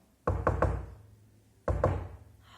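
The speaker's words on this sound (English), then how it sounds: "she heard a knock on the door" Two separate sets of knocks on a door, first three sharp raps and then two more after a pause, heard clearly and up close with no voices.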